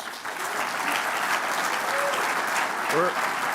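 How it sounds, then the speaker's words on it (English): At an engineering conference award session, an audience gives a sustained round of applause for the award winners, dense and steady, with a few faint voices and whoops rising through the clapping. "Please give another round of applause for all of our award winners."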